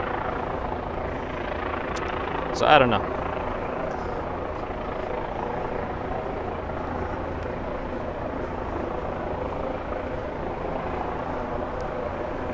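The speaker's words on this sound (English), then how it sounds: "I feel like TV helicopters don't normally hover over the city. Usually it's a police helicopter." A helicopter hovers over Manhattan, its steady rotor drone filling the street ambience throughout. A passing siren-like sweep rises briefly, and a voice speaks a few words.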